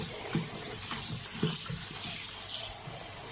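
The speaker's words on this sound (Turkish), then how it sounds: "iyice suyu dolduruyorum" Tap water running steadily into a washing machine drum at home in Denmark, a continuous close splashing rush with no talk.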